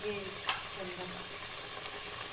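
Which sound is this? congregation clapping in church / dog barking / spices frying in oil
spices frying in oil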